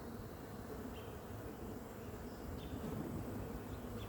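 Honey bees buzz steadily inside a hive, a dense, continuous drone close to the ear with slight swells in loudness and no voices.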